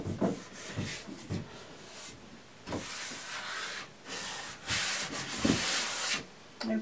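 Sandpaper rubs down a chalk-painted wooden dresser between coats in steady back-and-forth strokes, close and fairly loud, the scratchy passes varying in length with brief gaps and no speech.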